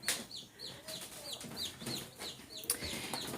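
A black Australorp hen clucks softly and intermittently, with brief chirpy calls scattered over quiet indoor background noise and no speech.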